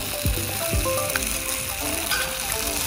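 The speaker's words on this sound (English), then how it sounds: "Sizzling mapo tofu" A restaurant dish of mapo tofu sizzles on a hot plate in Macao, a steady, fairly loud crackling hiss with a few sharp pops near the start.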